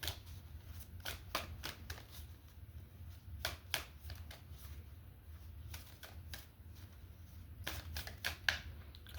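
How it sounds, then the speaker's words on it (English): Repeated crisp riffling bursts of tarot cards being shuffled close up, in irregular clusters over a quiet low background hum. "I'm going to shuffle again because those were too many cards."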